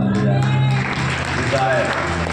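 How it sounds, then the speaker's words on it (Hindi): A crowd at a church gathering claps loudly in a short burst, with a voice talking over the clapping. "जोर से बजाओ ताली।"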